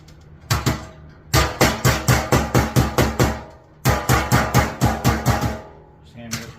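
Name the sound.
hammering sheet metal HVAC duct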